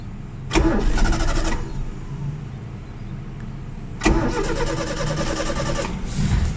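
A Timor car engine cranks and catches twice in quick succession, each start a loud, close burst of starter whine and engine sound that settles into a rough idle.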